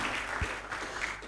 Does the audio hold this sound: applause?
yes